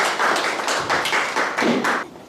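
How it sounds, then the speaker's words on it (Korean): Audience applause welcoming an emeritus professor of Chinese classics to a lecture at a Confucian adult college, loud rhythmic clapping from a nearby crowd that swells in waves and stops abruptly near the end. "큰 박수로 맞이해주십시오."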